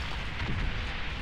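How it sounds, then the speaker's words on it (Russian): A short explosion in the World War I video game Valiant Hearts: The Great War, a low, rumbling blast that swells and fades within about a second, with no talk over it. "Так, что здесь за взрыв?"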